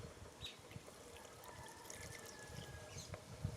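Water trickles and pours steadily down a channel of a model watershed, a soft continuous splashing flow that is faint and close, with no voices.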